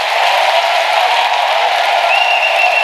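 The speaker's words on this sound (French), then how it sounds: "Clap for Jesus." A congregation claps steadily at a New Year's Eve night of prayer, a dense continuous wash of many hands with a faint voice or tone drifting above it.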